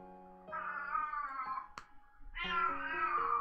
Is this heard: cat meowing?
yes